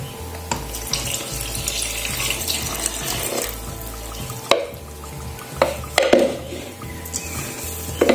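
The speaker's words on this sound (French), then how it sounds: "je verse l'eau avec la levure" Water with dissolved yeast is poured into a stand mixer bowl, a continuous close splashing trickle broken by a few sharp clinks and knocks near the end, with no speech.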